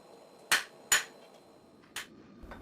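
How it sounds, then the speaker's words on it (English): Hammer blows on a steel bar being forged into a small Thor's hammer pendant: three sharp, ringing metallic strikes, with a fainter tap at the end, alone with no talk. "You hammer on the top, which is actually the bottom of the pendant, the back side of the pendant, and you hammer on both sides."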